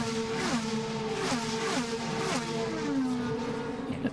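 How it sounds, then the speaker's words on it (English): IndyCar race cars pass during Indianapolis 500 practice: several high-pitched engine notes sweep down in quick Doppler drops, one car after another at moderate distance, with a steady buzzing hum between passes. "Let's have another listen as the cars go by."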